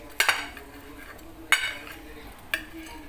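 Cutlery cutting through a homemade breakfast dish on a plate; three distinct sharp metallic clinks about a second apart, close and fairly quiet against a hushed background.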